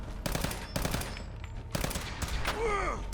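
Bursts of automatic gunfire from a hard-recoiling gun in the video game Fallout 4, loud repeated volleys in several clusters with short gaps, close and punchy, with game effects trailing at the end.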